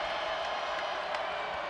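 A basketball arena crowd roars steadily after a long three-pointer, a broad, sustained wash of cheering with faint whoops mixed in.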